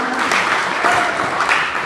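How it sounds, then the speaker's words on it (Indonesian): Audience applause greets the four candidates at a student executive board debate for governor and vice-governor, a steady, dense clapping that fills the room for the whole moment with faint talk underneath. "Berikan tepuk tangan dan semangat kepada keempat kandidat."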